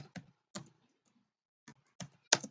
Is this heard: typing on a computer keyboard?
yes